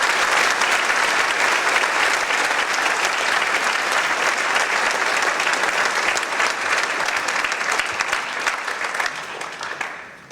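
A school hall audience at a 2005 prefect ceremony applauds new prefects with sustained, dense clapping from a large crowd that holds steady for about ten seconds, then begins to fade at the end.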